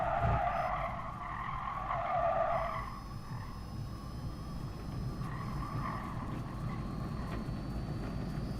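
Car engine roaring steadily in the racing video game Gran Turismo Sport, with tires squealing loudly in the first few seconds, then a continuous engine drone with occasional skids.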